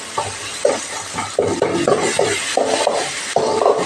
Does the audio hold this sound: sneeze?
no